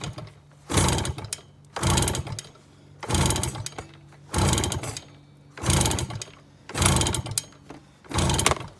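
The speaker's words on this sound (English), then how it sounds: "just kick it over until you get the highest reading on the bike" Seven evenly spaced kicks turn over a Yamaha PW80 dirt bike engine at wide-open throttle with the kill switch on for a compression test, each a close, loud chugging burst about a second apart.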